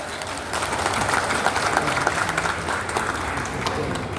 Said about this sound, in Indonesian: Berikan aplaus yang meriah.